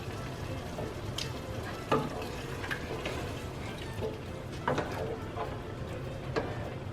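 Marinara sauce with garlic and onion being stirred in a pot, with soft scraping and clinking strokes at irregular intervals over a steady low sizzle.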